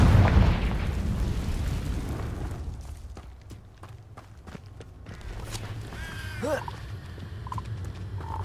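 A Confringo blasting spell explodes in the game Hogwarts Legacy with a loud broadband burst that fades over a couple of seconds, followed by quieter scattered clicks and footsteps.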